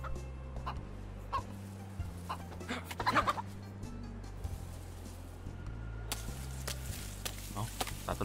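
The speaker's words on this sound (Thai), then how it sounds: "มีไก่แถวนี้อันนี้อ่ะอยู่นี่อ่ะ" Chickens cluck intermittently in DayZ amid a steady low hum of game ambience, with faint scattered clucks and a brief louder flurry near the middle, distant and soft.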